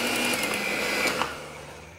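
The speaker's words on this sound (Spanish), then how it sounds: "yo me voy a apoyar de mi batidora de mano y vamos a empezar a mezclar" Electric hand mixer whirring as it beats cream cheese for brownies, a steady mid-volume motor hum that slowly fades toward the end.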